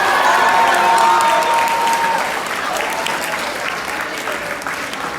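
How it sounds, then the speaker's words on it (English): Audience at a school sports banquet applauds an award winner, a sustained, loud burst of clapping from a full room that tapers slightly toward the end, with a faint tone and some murmuring mixed in. "Please give a round of applause to Kyle Ho."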